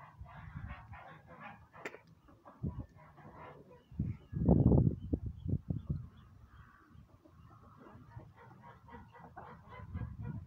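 Goose goslings brought into a farmyard pen honk repeatedly in a busy cluster of short calls, with one louder burst partway through, close by and with no one talking.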